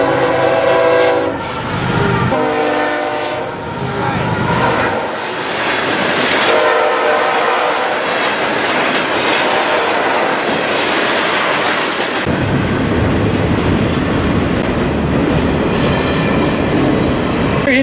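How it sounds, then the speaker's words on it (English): A Florida East Coast Railway freight train made up of loaded rock cars followed by intermodal cars rolls past close by, with a horn blast, roaring wheels, clanking cars and squealing steel over a long steady pass. "Very interesting consist on that train. You had basically a full rock train, and then you had intermodal behind it"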